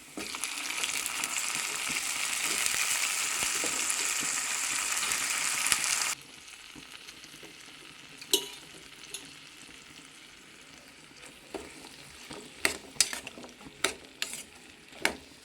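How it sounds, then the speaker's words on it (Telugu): Onion and potato pieces fry in a pan with a loud, steady sizzle for the first several seconds. The sizzle then drops to a quieter hiss, broken by sharp scraping clicks of stirring. "ఉల్లిపాయ అయితే వేసినండి మన ఆలుగ ముక్కలు అయితే వేసుకున్నాం బంగాళదుంప ముక్కలు"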